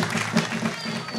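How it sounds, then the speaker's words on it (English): Brief burst of crowd applause at a live gospel event, clapping mixed with a murmur of voices and a faint tone in the background, short and moderately loud. "I just want you to give Generation Next and the NACC a round of applause"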